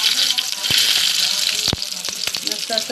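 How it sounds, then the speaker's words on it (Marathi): Plenty of garlic tempering in hot oil for palak dal crackles in a loud, continuous close-up sizzle, with a few sharp knocks of a spoon against the pan. "भरपूर लसूण घ्या म्हणजे चांगलं लागेल डाळीला फोडणी."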